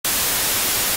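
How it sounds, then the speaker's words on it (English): A steady burst of white noise, the alert sound of a pitch training program, plays alone for about one second at even loudness from start to finish. "The white noise sounds like this."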